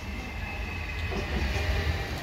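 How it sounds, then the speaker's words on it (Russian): An electric commuter train pulls into a station by the beach in Spain, giving a steady loud rumble of rolling rail cars with a faint high whine and no speech. "И наш поезд как раз пришел."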